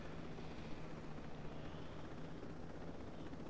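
A helicopter flies in a video game, its rotor and engine making a steady, droning whir that holds at an even level throughout, with no other sounds.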